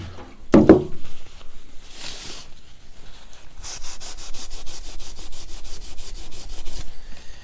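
A cloth soaked in acetone is rubbed over a chalk-painted kitchen cabinet finish, giving a sharp knock, then a brief swish, then a long run of quick, rhythmic scrubbing strokes up close.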